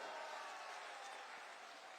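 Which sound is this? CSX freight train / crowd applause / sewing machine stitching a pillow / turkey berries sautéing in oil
crowd applause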